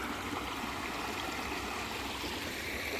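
A creek in Seneca, South Carolina flows steadily nearby, a continuous close rushing and trickling of water with no voices.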